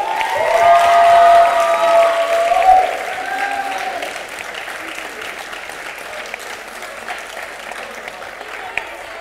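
An audience giving a round of applause, loud crowd clapping mixed with cheering and whoops over the first few seconds, then fading to a quieter murmur of scattered claps and voices.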